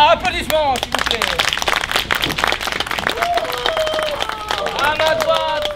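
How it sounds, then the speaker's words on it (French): A crowd claps and cheers in a dense burst of applause, with excited voices and shouts mixed in over several seconds. "Applaudissements, s'il vous plaît."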